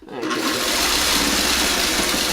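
A sewing machine runs steadily, stitching a quilt row for a Tree of Life block, a loud continuous whirring drone that starts up quickly and holds even throughout, with no talking.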